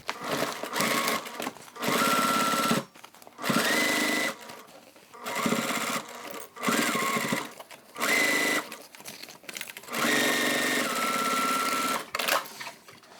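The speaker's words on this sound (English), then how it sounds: "So now we can sew the side seams." Sewing machine stitching the side seams of a beginner crossbody bag, running in six or seven loud bursts of steady whirring separated by short pauses, close up with no talking.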